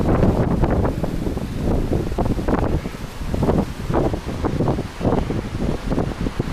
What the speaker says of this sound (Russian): Холодно держать рукам камеру, когда ветер дует